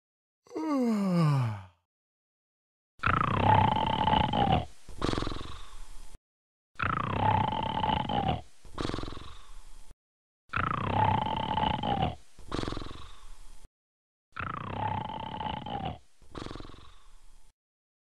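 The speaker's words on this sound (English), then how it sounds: "PC Guy is snoring so loud, I can't get to sleep because I heard the sound of it." Loud, repeated snoring from a cartoon character in a 2006 GoAnimate animated movie: four long rasping snore cycles, each a drawn-out inhale followed by a shorter breath, after a brief rising whistle at the start.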